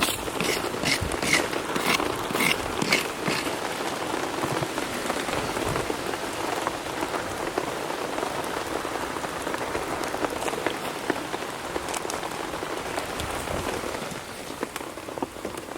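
Rain falls steadily on a cover rigged over a campfire, a dense close patter with sharper drop hits early on, continuing evenly throughout without talk.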